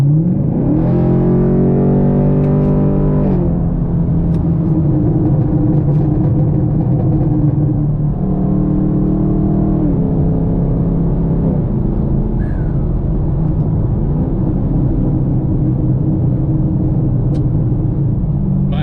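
A car accelerates hard along a road, its engine climbing through several gears in rising, stepped surges, then settling to a steady loud rumble from inside the cabin, with no talk.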